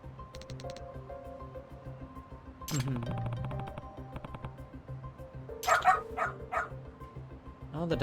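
A detective dog in the Lost Judgment video game gives a few yips and barks over steady in-game background music, with a brief voice in the middle.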